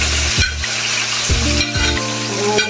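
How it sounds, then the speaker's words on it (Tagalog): Tomatoes sizzle in a hot pan for Filipino ginisang monggo with pork, a steady close frying hiss broken by a few scraping strokes of a utensil stirring against the pan. "Susunod ko, lulutuin ko muna itong kamatis."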